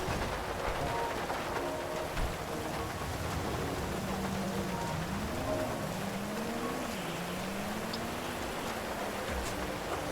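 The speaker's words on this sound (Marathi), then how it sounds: "अरे एवढा पाऊस पडतोय" Heavy rain falls in the GTA 5 video game, a steady, fairly faint hiss of rain under a low rumble, with a gliding engine-like tone rising and falling midway.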